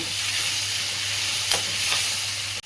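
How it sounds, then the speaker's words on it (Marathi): Spinach and cauliflower bhaji sizzles and fries steadily in a pan, a continuous close hiss with a few brief scraping stirs partway through. "आता आपण पालकला थोडं मिक्स करून घेऊया।"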